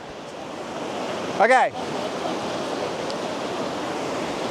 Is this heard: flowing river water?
yes